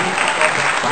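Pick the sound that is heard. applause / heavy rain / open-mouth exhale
applause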